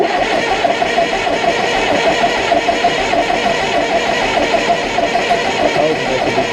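Fordson and Ferguson diesel tractors running after a cold start, a steady loud mechanical engine drone with fine rhythmic knocking, close and continuous without talk.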